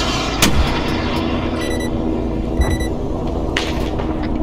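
Rockets in a military shooter game launch amid a loud, constant roar of battle, with a few heavy booming thumps standing out above the din.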